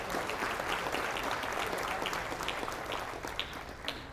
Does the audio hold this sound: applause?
yes